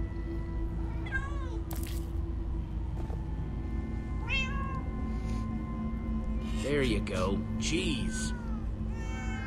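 Several cats meowing in Minecraft: Story Mode, a run of rising and falling meows layered over game background music, with someone talking briefly in between.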